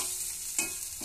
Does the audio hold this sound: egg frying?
yes